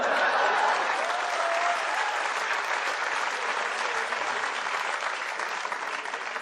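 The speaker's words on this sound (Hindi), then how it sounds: "देख रहे, सिर्फ गरीब लोग ताली बजा रहे हैं।" Audience at a stand-up comedy show breaks into steady, dense clapping, loud from the start and easing off slightly toward the end, with no voice over it.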